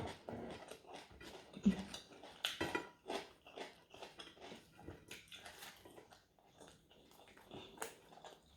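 A metal utensil scoops food from a pot of Thai mackerel chili paste (nam prik pla too), with scattered clinks and scrapes against the pot at close range and no talking.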